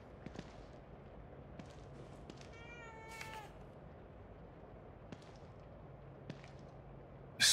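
One short cat meow rises out of a quiet, eerie ambience in The Evil Within 2, and faint sparse clicks and thuds sit around it.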